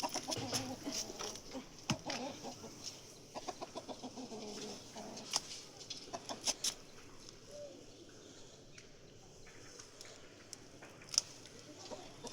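Chickens cluck and chatter in short bursts nearby, with scattered clatter and rustling around them.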